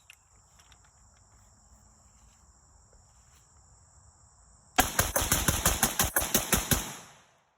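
Rapid burst of about a dozen shots from a Palmetto State Armory AK-103 rifle, loud and close, fired in quick succession before stopping abruptly, with crickets chirping faintly outdoors beforehand.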